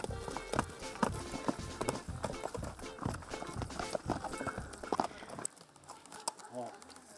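A group of horses walks along a trail ride on easy ground, their hooves clip-clopping and shuffling steadily under a continuous wash of background noise, with the sound thinning near the end.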